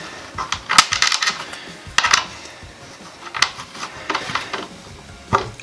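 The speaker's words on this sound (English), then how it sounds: "Installed riv nut" A hand riv nut tool sets a riv nut into a van's metal framing, giving several sharp metallic clicks and clanks in short clustered bursts, close and fairly loud, with quiet gaps between pulls.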